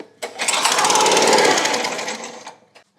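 The small engine of a Tractor Supply wood splitter, choked and on a new carburetor, cranks and sputters in one loud, rapid, rattling burst of about two seconds, then cuts out without catching.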